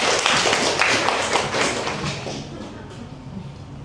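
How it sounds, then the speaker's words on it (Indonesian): Audience at a seminar clapping hands together, a dense burst of applause that fades out over a few seconds. "Boleh tepuk tangan?"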